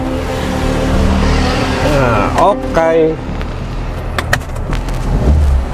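A 2000 Suzuki Karimun Kotak, second generation, idling steadily up close inside the car, a low continuous engine hum with brief clicks and rattles while a person speaks over it.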